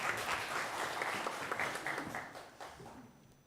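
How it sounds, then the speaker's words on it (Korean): A church congregation applauds during a Sunday worship service, a moderate burst of clapping heard at a distance in a reverberant hall that fades away toward the end. "저희도 함께 영광의 박수를 올려드리겠습니다."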